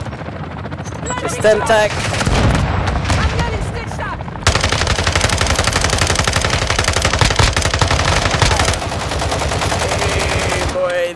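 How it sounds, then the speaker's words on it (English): Rapid automatic bursts from an FSS Hurricane in Call of Duty Warzone DMZ crack out in long sustained strings, loud and close, with a brief spoken call mixed in. "I shoot them as soon as they land."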